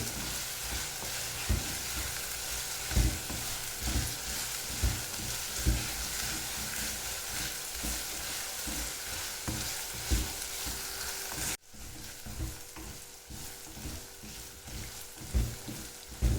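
Onions and chillies sautéing in a pan, a continuous close sizzle with repeated scraping stirs and spatula knocks, dropping quieter after a sudden cut partway through.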